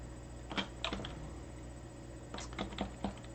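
Light clicks and key taps from a computer keyboard and mouse come in two short clusters, close and fairly quiet over a steady background hiss.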